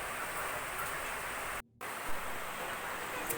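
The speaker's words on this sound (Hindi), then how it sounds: "इतनी तेज़ बारिश हो रही है" Heavy monsoon rain pouring down in a dense, constant hiss with a brief dropout in the middle, loud and close with no voices.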